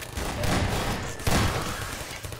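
Bursts of gunfire in the Half-Life 2 video game, a dense, loud stretch of shots with a sharper burst partway through, heard close with no voices over it.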